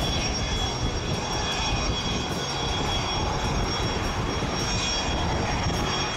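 Loud, steady roar of the engines on Kenya's official presidential jet, droning evenly and close throughout with no voices.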